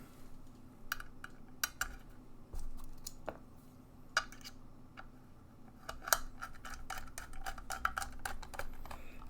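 Screws are driven into a Mode Sonnet mechanical keyboard case, making sharp, irregular metallic clicks and ticks over a low steady hum. There is no talking.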